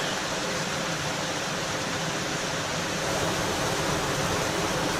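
Icy waterfall beside a hiking trail on a Thanksgiving hike up Mount Hight, a steady, close, full-bodied rush of falling water that holds even and unbroken from start to finish.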